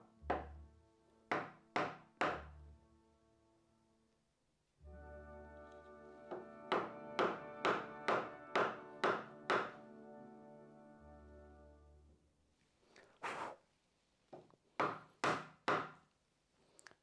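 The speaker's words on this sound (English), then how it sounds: "I should get a mallet. Take the bigger chisel and mark" A mallet drives a chisel into the wood of a door under restoration, landing sharp, woody knocks close by in quick bursts of three and then a run of about eight, with a few more strikes after a short pause.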